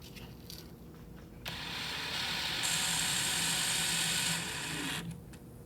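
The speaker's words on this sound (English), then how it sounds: "And we'll install the last 3 screws." A power driver whirs steadily for a few seconds, rising slightly in pitch as it drives a screw home into a practice bone model, then stops; no voices.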